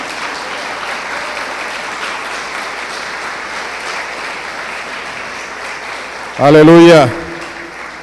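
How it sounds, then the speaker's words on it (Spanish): A church congregation claps in sustained, even applause during a worship service, and then a single voice calls out briefly near the end. "Denle un aplauso al Señor por eso"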